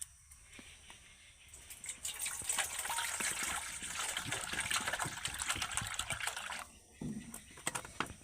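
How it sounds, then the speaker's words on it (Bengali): Water pours and gushes into a large bowl in a kitchen before lemons are washed for pickle, a steady, close splashing stream that stops briefly near the end, with no voices. "এই জায়গার মধ্যে আমি জল দিয়ে দেবো"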